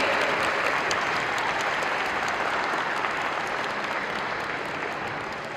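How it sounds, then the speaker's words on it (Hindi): Steady, dense applause from a school audience after a stage performance at an Independence Day event, loud and continuous, fading slightly toward the end. "जोश और जज्बे के लिए तालियां बनती हैं।"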